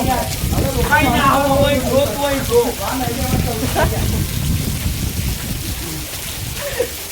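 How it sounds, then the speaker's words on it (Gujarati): Heavy rain pours down in a dense, constant hiss, with a person talking over it near the start. "દેખો યાર કેટલો જોરદાર વરસાદ પડી રહ્યો"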